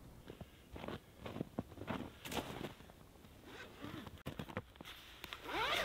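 Zipper on the zippered wiring pouch of a Bluetti 200W folding solar panel rasps in several quick pulls, close and fairly quiet, mixed with handling rustles.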